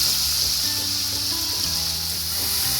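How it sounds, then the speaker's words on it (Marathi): Chopped onions frying in hot oil with cumin, a steady dense sizzle and hiss filling the clip, close and constant with no voices. "मग आपल्याला ह्याच्यात आहे ना 2 मोठे असे चिरलेले कांदे घालून घ्यायचे"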